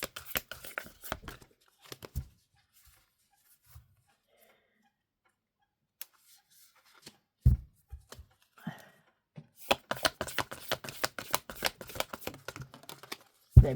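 Tarot cards are shuffled by hand in uneven stop-start bursts of soft riffling and tapping, quiet and close, with pauses between attempts and a longer, busier shuffle toward the end.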